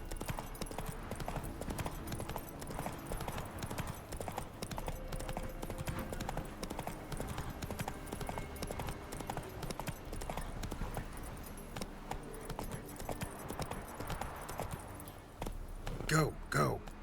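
In The Witcher 3 video game, the horse Roach trots with a steady, rhythmic clip-clop of hooves on the ground, while a voice speaks over the hoofbeats.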